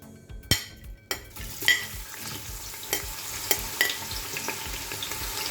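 Steady crackling sizzle of onions frying in hot oil, with several sharp scrapes and knocks of a utensil stirring the pan at irregular intervals.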